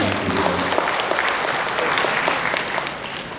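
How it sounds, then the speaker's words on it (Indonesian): Loud, sustained applause from an audience at an Indonesian cooperatives ministry visit in Malang, thick and steady from start to finish. "Tepuk tangan untuk Bapak."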